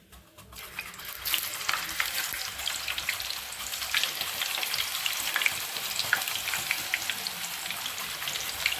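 Raw nendran banana slices deep fry into chips in hot oil, a dense crackling sizzle that swells up in the first second after they drop in, then bubbles on steadily and close.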